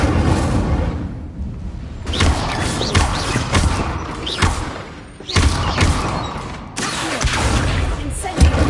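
Incendio fire spell cast repeatedly in Hogwarts Legacy, a dense loud stream of whooshing flame bursts and thumps with sharp onsets every second or two, filling the whole stretch.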